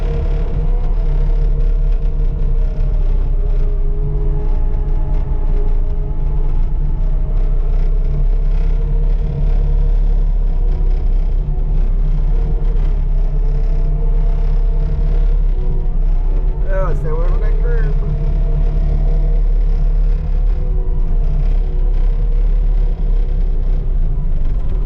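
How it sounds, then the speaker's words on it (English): Heavy skid steer engine rumbles steadily and loudly throughout while the machine moves wet, heavy snow, with a brief clank partway through. "I'm gonna grab the skid steer and do some of that with that"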